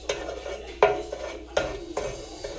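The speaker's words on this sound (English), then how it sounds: "Just keep stirring it." Sugar melting in a pot as it is stirred for Guyanese chicken chow mein, with a few distinct spoon scrapes and knocks against the pot over a faint background hiss.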